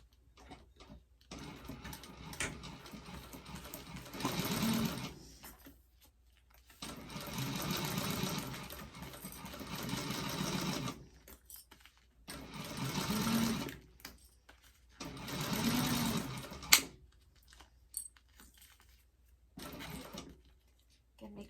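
A domestic sewing machine basting a seam with a narrow allowance runs in four separate bursts of steady, rapid stitching, each a few seconds long, with short quiet pauses between them.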